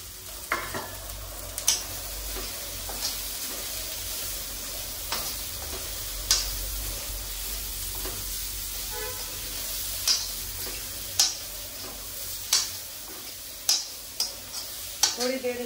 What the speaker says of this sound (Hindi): थोड़ी देर इसको भून लेंगे।